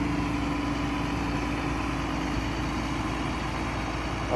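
A 2014 John Deere tractor engine idles nearby with a steady, even low rumble and hum, unchanging throughout and with no talking over it.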